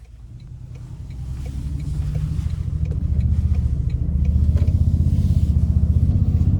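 Twin-turbo V6 hybrid engine of a 2025 Toyota Tundra TRD Pro iForce Max pulling on the road, a steady low engine drone that builds gradually in loudness with rising revs, heard from inside the cab without any talk.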